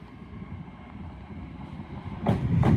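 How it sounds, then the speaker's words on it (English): An LNER Azuma train departs Doncaster station with a low, steady rumble and wind-buffeted noise. Two brief louder bursts come near the end. "Departing now is your 1147 LNER Azuma service from Leeds to London King's Cross."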